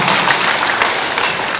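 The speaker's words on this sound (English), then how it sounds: "One more round of applause for" A crowd claps and applauds steadily throughout, a dense, even wash of hand claps with no pauses.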